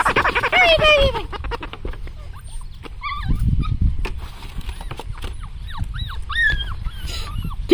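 Whippet puppies playing outdoors on their first trip outside, yipping and whimpering in high squeaky bursts with small scuffles, close by and lively throughout.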